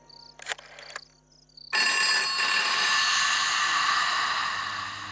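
A telephone rings at home: a few brief electronic chirps, a pause, then a loud, sustained ringing tone that holds steady for several seconds, close and alone with no talk.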